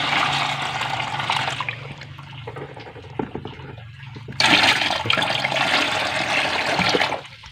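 Water from cooled cincau leaves, boiled with coral stone, is poured off in two long splashing gushes with a quieter trickling pause between them, close and fairly loud, with no talking.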